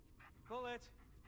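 Bullet the dog in the video game Blair Witch gives a short whine with quick panting breaths, brief and fairly quiet.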